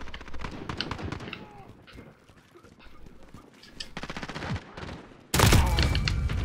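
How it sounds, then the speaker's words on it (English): AK assault rifle fire in Call of Duty Modern Warfare, coming in scattered close bursts that ends in a long, loud sustained volley. "can't hit anything with AK right now"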